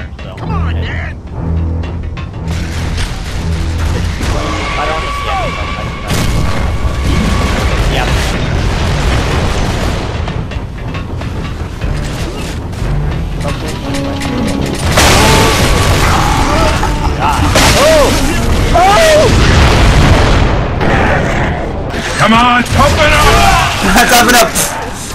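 Mortar blasts in the Gears of War video game, loud booming explosions and crashes layered in a dense, continuous game soundtrack with mechanical effects, several detonations through the stretch, mostly at close range with voices.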